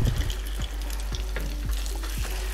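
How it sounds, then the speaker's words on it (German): Meat sizzles in very hot oil in a pan on an OptiGrill, a loud, steady close-up frying hiss with faint scraping as the pieces are spread around, and no talk. "Und dann geben wir das Fleisch rein"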